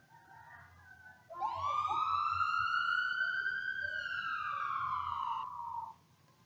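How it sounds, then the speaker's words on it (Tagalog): A single loud ambulance siren wail rises and holds for several seconds, then cuts off, close by with faint background noise. "Ambulansya."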